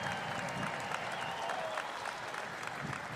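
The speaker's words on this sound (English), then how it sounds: "Could you please give a round of applause to the Gappens family" Crowd applause at a dirt late model race night at Eldora Speedway, a steady wash of distant clapping spread across the grandstand, fairly faint and continuous with no voices standing out.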